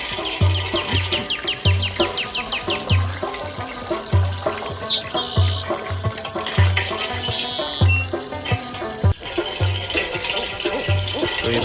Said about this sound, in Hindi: तो अब फिर पानी मारते हैं सारे गोश्त को।